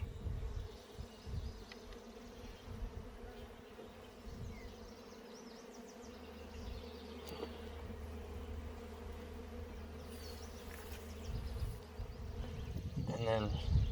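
Honey bees buzz steadily around an open hive while a frame is lifted, a dense droning hum running throughout with quieter talk mixed in.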